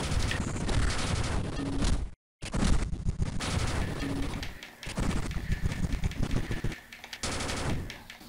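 Rapid gunfire from the Sega Genesis game General Chaos, a dense, loud rattle of shots running almost continuously with a brief drop-out near the start and busy game noise underneath.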